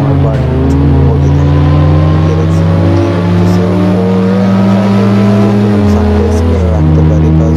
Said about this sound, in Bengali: just look at my exhaust here, চারটা ফায়ার একসাথে লাগতেছে